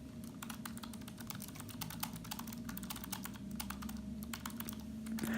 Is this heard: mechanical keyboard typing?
yes